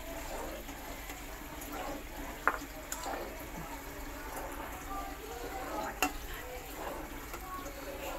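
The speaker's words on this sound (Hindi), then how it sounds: "चलिए अब मैं इसमें साथ साथ इसको मिक्स भी करना है" Custard stirred in a pan: soft, steady scraping and swishing at low volume, with a faint hiss underneath and a few brief clinks.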